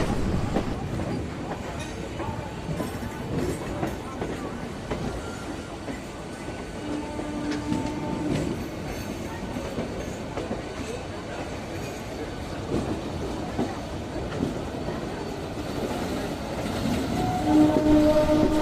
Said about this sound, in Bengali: এই ট্রেনটি সিউড়ি থেকে আসছে, যার নাম্বার হলো 22322 হুল এক্সপ্রেস।